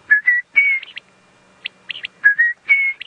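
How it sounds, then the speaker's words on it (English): A wild bird near a cheetah on an evening safari drive gives clear whistled calls in short repeated phrases: a rising slurred note followed by quick chirps, recurring twice, close and with no talking. "one of the birds that we can hear while we watch the cheetah"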